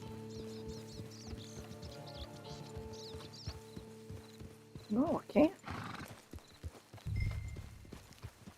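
Horse in Red Dead Redemption 2 neighing loudly twice while its hooves clip-clop steadily, under a voice speaking briefly and low background game music.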